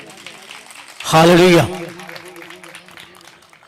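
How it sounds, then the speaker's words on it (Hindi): A church congregation breaks into a burst of applause and cheering during an Easter sermon, loud and brief for about half a second, with a voice calling out before quieter murmuring resumes. "तालियां बजाएं अपने लिए"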